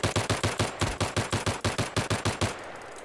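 Rapid automatic gunfire from the video game Battlefield 3 rattles out in a fast, even string of about a dozen loud shots, then cuts off abruptly into a quieter tail.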